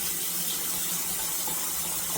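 Tap water runs steadily into a container to make a salt water soak for mulberries, a continuous close hiss and splash with no talking.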